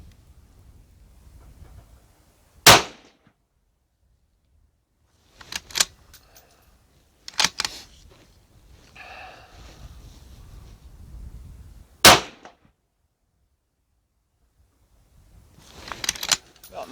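Rifle shots ring out at an outdoor shooting range, loaded with handloaded rounds. There are several sharp, loud cracks spaced a few seconds apart, with quiet handling noises and faint rustling in between.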